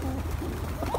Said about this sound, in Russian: Смотрите, какие голуби. Какие прекрасные голуби.